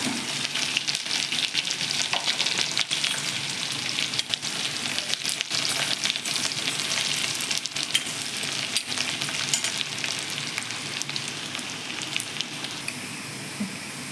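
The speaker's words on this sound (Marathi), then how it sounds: "आपलं तेल छान तापलं आहे. यात लसूण टाकते खूप सारा." A generous amount of garlic frying in hot oil in a pan, a steady close crackling sizzle that holds evenly throughout with no voices.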